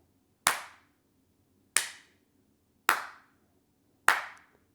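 Four loud, crisp hand claps sound at roughly even spacing, each a sharp cupped crack with a brief ringing decay, close by in an otherwise quiet room.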